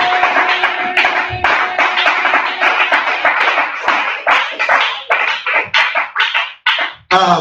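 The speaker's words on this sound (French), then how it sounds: "Applaudis très bien pour le roi des rois" A church congregation claps together in worship, dense clapping that falls into a rhythmic pattern of loud, closely spaced claps, with a faint voice at the start.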